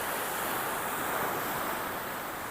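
Waves wash onto an eroding white sand beach in eastern Sulawesi, a continuous broad rushing roar of surf with wind, steady and fairly distant, with no voices.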